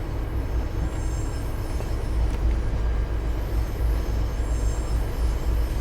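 An MBTA commuter train hauled by an HSP46 locomotive rolls over a rail switch leaving Framingham, a steady loud low rumble of wheels and car body noise with faint clicks throughout, no talking.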